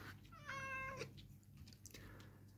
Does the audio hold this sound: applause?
no